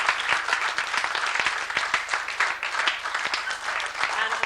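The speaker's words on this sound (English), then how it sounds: "I really do think it deserves a real big round of applause" Audience applause at a 75th birthday party in 1991, a dense, steady wash of many hands clapping that fills the whole stretch, with some voices mixed in.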